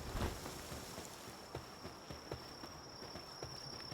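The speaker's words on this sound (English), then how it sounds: "Why the cicadas?" Insect-like buzzing drone of cicadas in the video game Palworld, a steady high whine running throughout beneath soft scattered ticks and thumps, quiet and continuous.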